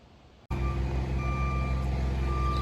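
A dump truck's reversing alarm on a building site where dirt is being delivered, beeping steadily and loud close by over a rumbling diesel engine that starts abruptly.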